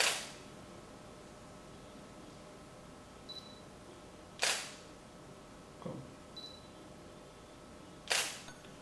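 Camera shutter clicks and flash bursts fired through a Yongnuo YN-E3-RT wireless trigger, three sharp loud snaps spaced a few seconds apart with quieter mechanical clicks between, in a quiet room.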